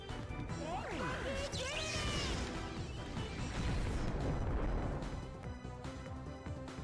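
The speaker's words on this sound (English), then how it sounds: "Numamon's death animation is always pretty funny." Numamon's death animation in the video game Digimon World 2 plays as a chaotic burst of crashing, whacking impacts with quick sliding chirps and zips, loud and busy for several seconds before fading slightly.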